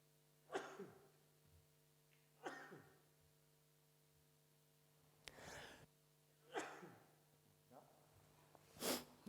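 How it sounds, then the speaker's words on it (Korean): Several separate coughs and throat-clearing bursts during a church sermon, about five or six spaced a second or two apart, fairly close with a faint hum behind. "저는 꼭 기침을 3번을 합니다."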